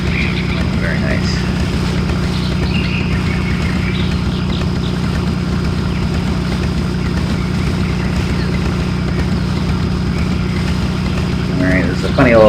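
A vehicle engine runs in the video game Amerzone, a steady low drone that holds throughout with little change and rises slightly at the very end.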